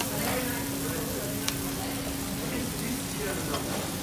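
Guanciale pork cheek frying until crisp in a pan for carbonara, giving a steady, dense sizzle that stays loud throughout.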